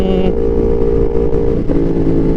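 Close, steady drone of a big-bike motorcycle engine while riding, a continuous loud hum with a slight pitch shift late on, and no talk.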